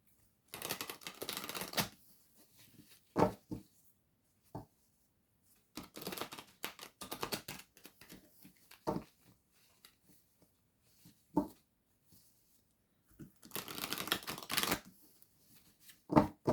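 Oracle cards being shuffled by hand in quiet bursts of papery riffling and soft taps, longer shuffles at the start and near the end with scattered single flicks between.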